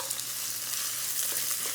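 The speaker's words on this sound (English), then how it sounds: "My cumin seeds are sizzling, and in goes some onion." Cumin seeds and half a large red onion sizzle and fry in a hot pan, a steady dense crackling hiss that runs close and continuous throughout with no voices.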